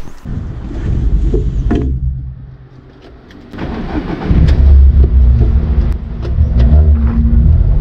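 A Volkswagen Saveiro pickup's engine cranks and catches, idles briefly, then rumbles louder as the vehicle pulls away and drives, heard close and steady.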